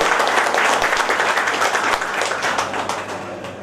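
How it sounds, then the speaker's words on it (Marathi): Audience applause at an anniversary celebration of a Maharashtra news channel, welcoming an honoree: dense, sustained clapping from a crowd that stays loud throughout and tapers slightly toward the end. "सर्वांनी टाळ्या वाजवून त्याचं स्वागत करावं"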